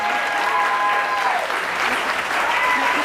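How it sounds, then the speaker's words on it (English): Audience applause at a Shakespeare performance grand final, a dense steady wash of clapping from a crowd that carries on loudly for the whole stretch with a brief whistle heard over it. "Give them a round of applause."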